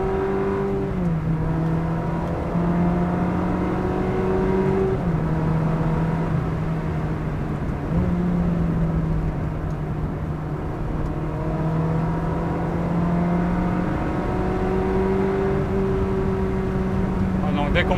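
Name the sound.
Ferrari 360 Modena engine revving while driving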